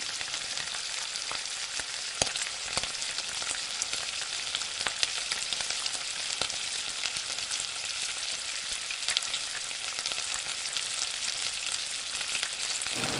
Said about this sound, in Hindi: ज़बरदस्त से ये फ्राई जब हो जाए गोल्डन ब्राउन, तो फिर हम इसको निकाल लेंगे